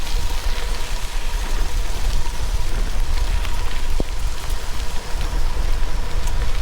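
Steady outdoor rain pours down at Eliza Furnace, a dense, even hiss of drops close by that continues without pause.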